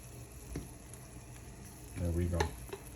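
Chicken tinga sauce with chipotle, tomato, onion and broth bubbles and sizzles softly in a pan, with a few stirring scrapes and a louder burst of bubbling toward the end.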